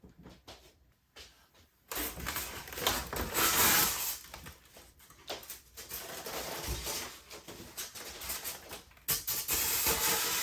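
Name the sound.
model train running on layout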